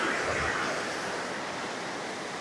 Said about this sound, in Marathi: आणि पाण्याला प्रेशर बघा